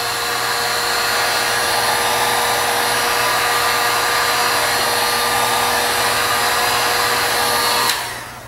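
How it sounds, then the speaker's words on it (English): A heat gun runs at a loud, steady whooshing whir for about eight seconds, then switches off and winds down abruptly near the end. "Get my heat gun set up."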